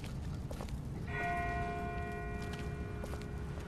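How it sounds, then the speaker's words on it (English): In The Walking Dead video game, a bell rings far off: a single clear, sustained metallic toll swells in and hangs over a constant ambient background, then slowly fades. "That's not the same bell as before. This one's further off."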